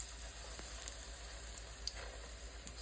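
Spoonfuls of ripe banana fritter batter fry in hot oil, giving a soft, steady sizzling hiss with occasional small pops and crackles, close by and without speech.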